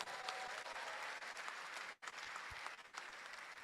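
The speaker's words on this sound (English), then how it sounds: "Can we give them a round of applause?" An audience gives a round of applause for a youth choir at a medical and dental practitioners' induction ceremony, steady massed clapping heard faintly from a distance, with a brief dip partway through.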